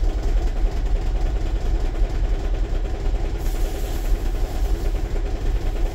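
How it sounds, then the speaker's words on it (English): A 2009 Toyota Prius 1.5 hybrid engine with a cylinder 3 misfire idles with a steady, close rattling drone that holds an even low rumble for the whole stretch, and no one speaks. "even though that the misfire is not occurring, but the engine is rattling"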